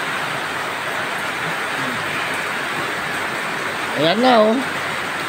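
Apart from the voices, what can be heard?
heavy rain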